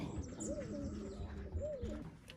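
Racing pigeons arriving at a loft coo softly and close by, two low, rolling calls heard against quiet outdoor background noise.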